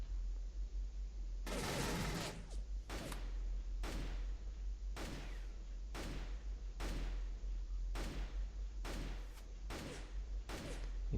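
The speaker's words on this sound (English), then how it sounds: "Some weapons have burst fire, like the pulse rifle." Pulse rifle firing in a video game, a loud initial burst followed by about eight sharp, evenly spaced shots, crisp and close with no talking.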